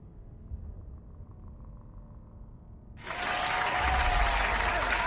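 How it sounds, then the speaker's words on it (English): After a few seconds of low, quiet background, loud crowd applause from the game Dune Imperium Digital suddenly bursts in and continues steadily to the end. "there's some applause for us getting into the game here"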